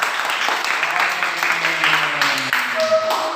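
A classroom of students clapping for a group after its presentation, a short burst of close applause mixed with voices talking over it.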